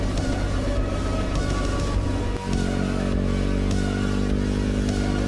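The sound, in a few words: motorcycle engine with sticking throttle on dirt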